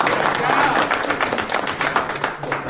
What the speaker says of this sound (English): so just give a hand of applause for yourselves